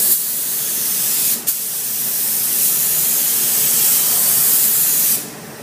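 A spray gun lays the first coat of primer, a loud, close, steady hiss broken by a brief pause near the start before the spraying resumes and then cuts off.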